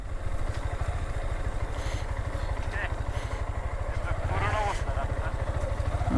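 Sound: motorcycle riding

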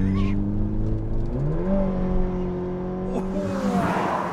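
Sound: car engine revving

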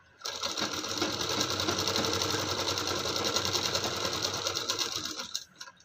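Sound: sewing machine stitching the edge of a blouse neck strip

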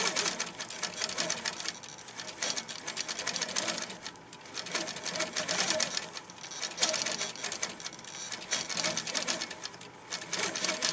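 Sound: quilting sewing machine stitching a fish quilt design

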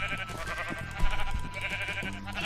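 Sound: sheep bleating in Minecraft video game

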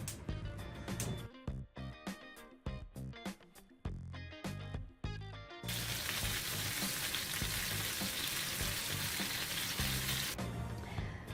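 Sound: eggplant frying in oil

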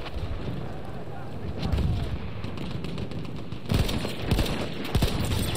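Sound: gunshots in the video game Battlefield 1

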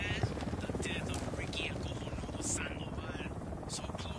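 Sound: Unidad helicopter on patrol in video game Ghost Recon Wildlands

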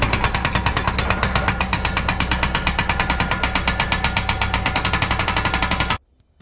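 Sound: hydraulic hammer on Bobcat T66 skid steer breaking a boulder

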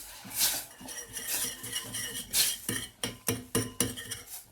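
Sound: whisking hot water for flour soup in a pot

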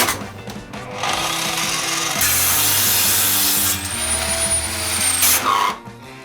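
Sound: Grand circular saw cutting wood under heavy load

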